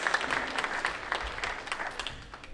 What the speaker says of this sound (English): I want you to give yourself a round of applause for investing into your life.